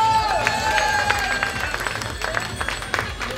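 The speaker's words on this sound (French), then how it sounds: "je voudrais juste des applaudissements pour eux" Crowd applause at a carnival in Peissant, sustained dense clapping with a few whistles and cheers throughout, fairly close and steady.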